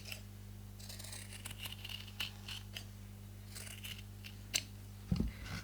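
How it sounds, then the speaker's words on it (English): Scissors snip fabric seam allowance around the curved corners of a sewn cardholder wallet, giving a series of small, quiet, close cuts over a low steady hum, ending with a louder handling bump. "take your scissors or pinking shears and trim the seam allowance by half"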